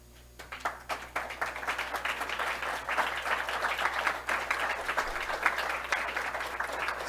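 Audience applause at a food summit keynote, honoring farmers and producers who stood to be recognized; steady, dense clapping from a moderately distant crowd that builds after a quiet start and holds evenly throughout.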